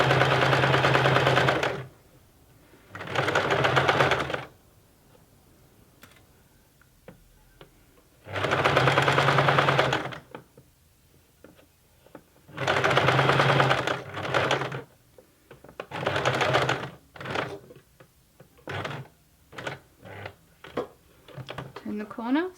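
Sewing machine slowly stitching bulky fabric for a honeybee cushion, running in several close bursts of a few seconds each with pauses between, followed by shorter quick stitching runs.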